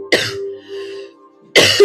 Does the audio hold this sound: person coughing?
yes